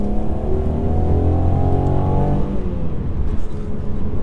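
A 2019 Mercedes C300 four-cylinder accelerating hard from inside the cabin, its artificially enhanced engine note a loud, steady drone rising in pitch, then easing off, with no talk over it.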